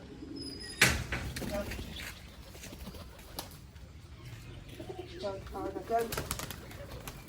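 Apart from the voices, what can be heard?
pigeons cooing while eating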